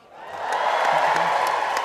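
A talent show audience gives a sustained wash of clapping and crowd noise that swells in quickly and holds steady, with a few faint whoops mixed in.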